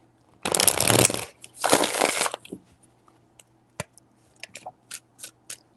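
Tarot cards shuffled by hand in two long, dense riffling bursts followed by a scatter of lighter taps and flicks, close and clear with no talking.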